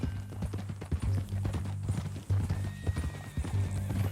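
Horse hooves clip-clop at a steady walking rhythm in the Red Dead Redemption 2 video game, fairly quiet, with occasional faint background sounds.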